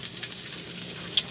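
Garlic sizzles and fries in a pan as monggo with ampalaya is being cooked, a continuous close crackling hiss with small pops and no talking.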